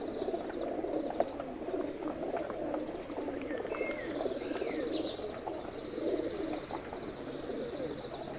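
Pigeons coo steadily inside a loft, several birds overlapping in low, rolling calls with a few brief chirps, continuous and fairly close with no talking.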